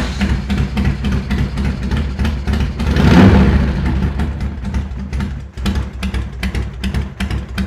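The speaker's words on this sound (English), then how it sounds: "see if we can get this bike to fire" A 1995 Harley-Davidson Softail motorcycle engine running close by, a steady loud rumble with a swell of revving midway before settling back to a lumpy idle.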